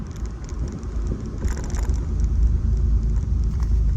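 Pontiac Solstice GXP driving, a steady low engine and road rumble heard from inside the cabin, with wind noise and slight swells in intensity, no talk.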